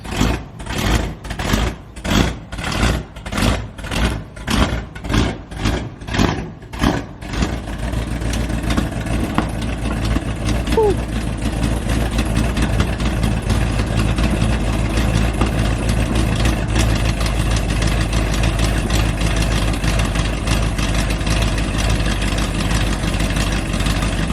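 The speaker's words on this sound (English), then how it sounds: "That sound that you guys heard was an exhaust leak in the headers." A Dodge Charger R/T engine on E85 cranks in rapid rhythmic bursts for several seconds, then catches and idles loudly with a steady, rough rumble and ticking from an exhaust leak in the headers.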